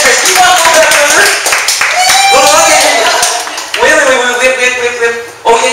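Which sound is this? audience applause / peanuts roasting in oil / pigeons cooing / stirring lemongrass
audience applause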